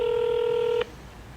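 A loud steady telephone tone holds for under a second during a call transfer, then cuts off abruptly into quiet line hiss.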